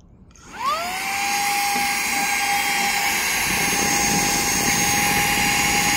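A SAKERPLUS 3-in-1 vacuum switches on and spins up to a steady low-speed whine, its motor tone rising quickly at the start and then holding constant and close, with no talking.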